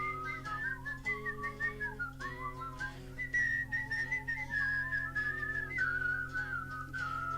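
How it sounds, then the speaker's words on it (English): A person whistles a wavering song melody over steady background music, the tune held continuously and clearly for the whole stretch. "Some people like to whistle these parts."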